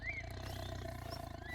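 A tiger growls in the open-world hunting game theHunter: Call of the Wild, a low, rumbling, continuous roar that sounds close and steady for the whole moment, with no talking over it.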